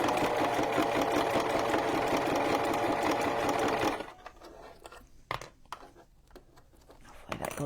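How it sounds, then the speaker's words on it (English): A sewing machine runs fast and steady while backstitching a journal cover, then stops about halfway through, leaving faint handling clicks and taps. "I'm gonna backstitch just a little bit."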